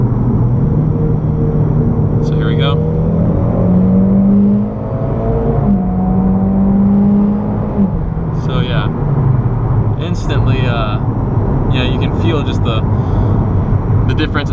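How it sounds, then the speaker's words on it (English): Inside an E85-fuelled Mitsubishi Lancer Evolution X MR with Varis parts accelerating hard in third gear, the engine drone climbs steadily and loudly, dips briefly at a quick shift, climbs again, then eases off amid sharp clicks and ticks. "So I'll go ahead and slow down and do a quick pull. I'll do a 3rd gear again."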